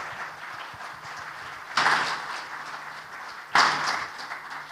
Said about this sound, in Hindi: एक बार खड़े होकर मैम के लिए ताली बजा सकते हैं